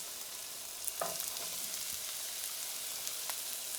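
Celery tipped into a hot pan of softening, translucent vegetables for a white bean, kale and sausage stew, giving a steady close sizzle with a few brief clatters and stirring bumps, no talk.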